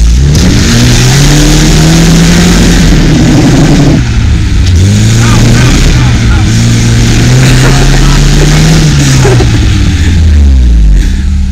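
A Lada Zhiguli engine revs hard at full throttle off-road, loud and close, its pitch rising and falling through sustained strained surges, with voices talking over it.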